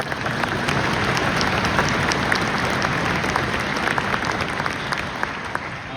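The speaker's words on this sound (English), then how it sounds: "can we give them a round of applause as well?" Audience at a school band winter concert claps steadily in a sustained, dense round of applause filling the room for the full stretch, no voices standing out.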